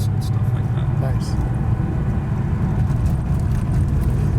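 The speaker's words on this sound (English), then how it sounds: "The sound that you're hearing now with the engine, you don't get that in the water-cooled cars." A 1987 Porsche 911 Carrera's air-cooled engine drones with a low, steady rumble while driving, with a voice speaking over the engine noise.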